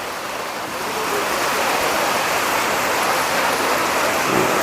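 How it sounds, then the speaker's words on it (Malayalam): Heavy monsoon rain pouring down at a hillside tourist spot in Khandala near Mumbai, a dense, steady, loud hiss of falling water that holds for the whole stretch without pause. "നല്ല മഴ പെയ്യുന്നുണ്ട്."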